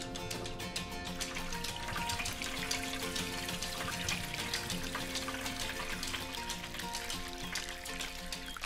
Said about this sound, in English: Now that I've got my bricks in place, it's time to add water.